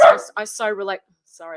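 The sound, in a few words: dog barking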